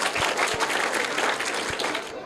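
Schoolchildren clapping loudly for a correct quiz answer in a classroom: a brisk, dense burst of many small hands with a few low thumps, cut off sharply at the end.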